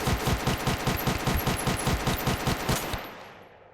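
Rapid automatic gunfire from the Lecter rifle in the game Space Station 14, a dense steady burst of loud shots for about three seconds that cuts off and fades out.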